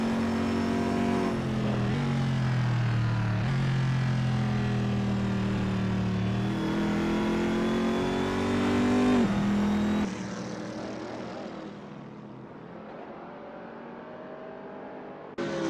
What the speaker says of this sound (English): Ian McDonald in Biondetti is P14 driving a Corvette C7R.